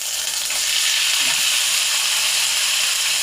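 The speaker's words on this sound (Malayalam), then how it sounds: "ചീനിച്ചട്ടി വെച്ച് എണ്ണ ഒഴിച്ച് കിഴങ്ങ് അരിഞ്ഞ് കഴുകി തോരാൻ വെച്ചിട്ടുണ്ട്." Sliced potatoes frying in oil in a hot pan give off a loud, steady, continuous sizzle with no pauses and no voices.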